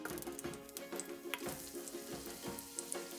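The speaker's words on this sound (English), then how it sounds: "you drop a piece of onion into the oil and it starts to sizzle" Onion sizzling in hot oil for curry lentil soup, a steady crackling fry with small pops, fairly quiet and close.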